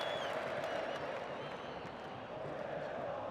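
Zamalek football fans in a stadium during the African Confederation Cup final against RS Berkane, a dense continuous crowd roar with cheering and clapping, steady and loud throughout.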